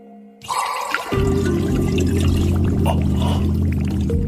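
Water pours out steadily in a full, continuous gush that starts abruptly and stays loud and close for several seconds, with no one talking over it.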